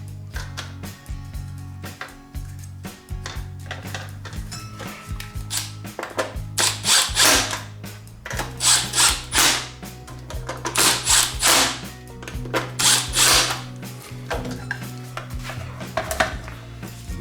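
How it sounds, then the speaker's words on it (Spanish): Screws being driven into the plastic casing of a DeWalt DCB107 charger during repair, heard as short bursts of whirring and clicking with light tool clatter over a steady low background hum. "Ahora aseguramos la estructura colocando sus respectivos tornillos."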